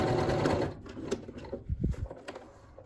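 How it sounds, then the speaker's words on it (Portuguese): A sewing machine stitches plastic onto fabric scraps, running in a dense, close mechanical whir at first, then slowing into uneven separate clicks and thumps near the end. "Vou costurar só por dentro dele,"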